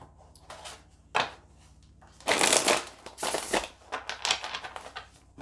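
A deck of steampunk tarot cards is shuffled close by in several bursts of riffling and flapping, separated by brief pauses and light handling noises, with no talking.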